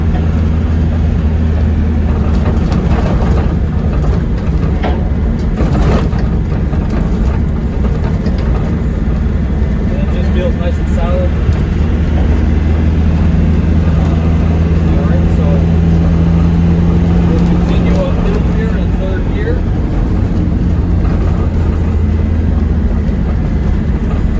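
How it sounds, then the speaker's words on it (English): A 1994 Land Rover Defender 110 with a 300Tdi diesel engine pulls uphill in third gear on a bumpy, uneven dirt road at about 40 mph, giving a steady, loud, low engine drone with rattles throughout. "that's third gear going uphill"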